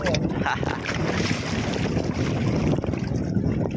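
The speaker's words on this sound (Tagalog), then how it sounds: "Lakas ng hangin, Grabe" Strong wind roars steadily across the microphone while fishing with nets, a dense, buffeting rush that continues throughout with no voices.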